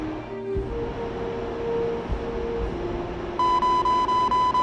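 Rapid, evenly spaced electronic warning beeps in the DCS flight simulator start abruptly late on, cutting in loud over a steady cockpit and engine drone.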